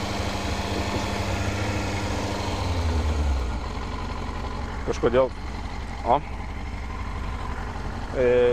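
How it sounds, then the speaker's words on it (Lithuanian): A 600 cc motorcycle engine idles after a cold start, a steady low rumble filling the first few seconds before dropping back beneath a voice, with a few brief sharper sounds later. "Ir variklis dirba."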